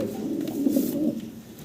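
Large fancy pigeons kept in a cage coo steadily in a low, rolling murmur, close by and continuous, with no voices over them.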